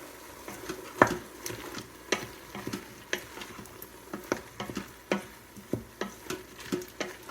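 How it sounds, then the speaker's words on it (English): Green onions and ginger sauté in a pot, a steady low sizzle broken by repeated scraping stir strokes and soft clicks of a utensil against the pot, close and alone with no talk. "add in the green onions and the ginger and let that saute for another couple of minutes"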